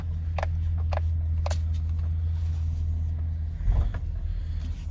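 A GM car with a StabiliTrak warning-light and cruise-control fault drives along, its engine and road noise forming a steady, close low rumble with a few faint clicks. A brief louder thump comes near the end. No one speaks.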